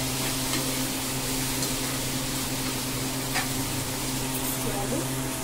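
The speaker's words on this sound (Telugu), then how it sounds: "చూడండి ఇట్లా బెండకాయలు, టమాటా, ఉల్లిపాయలు అన్నీ బాగా వేగినాయి." Okra, tomatoes and onions fry in a pan, giving a steady, even sizzle with a constant low hum underneath and occasional faint clicks.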